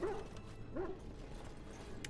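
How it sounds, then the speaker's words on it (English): Mabari war dogs in the video game Dragon Age: Origins give two short barks about three-quarters of a second apart, heard over steady game background noise. "They're barking dogs."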